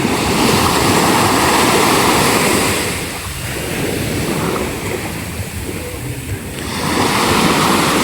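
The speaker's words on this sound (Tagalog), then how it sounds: "Nakakamiss din yung mga tunog ng ng dagat." Sea waves wash onto the shore in a loud, roaring surf that eases briefly in the middle before swelling again.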